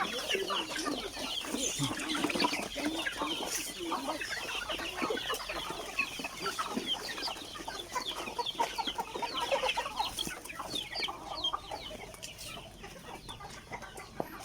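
A backyard flock on a village chicken farm keeps up continuous overlapping clucks and chatter, fairly close and steady throughout, with no voices.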